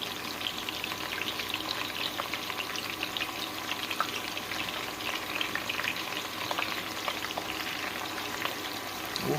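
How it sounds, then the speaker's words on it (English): Chopped white onion frying and rendering down in oil for a BBQ mop sauce, a dense continuous sizzle with crackling pops, close and steady, with no talking. "The onions are rendering down."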